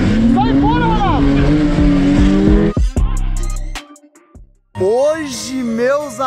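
A Porsche 991 and a Nissan Skyline R34 in a street race, engines revving hard and loud with rising and falling pitch through shifts, then a brief lull before another roaring surge.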